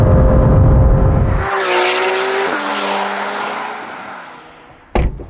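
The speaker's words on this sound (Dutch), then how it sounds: "Dat waren 500 pk van de Porsche GT3 RS" Porsche GT3 RS, a 500-horsepower sports car, roaring loudly as it accelerates hard through rising gear pulls and upshifts, with tire noise and a sharp burst near the end, no voices.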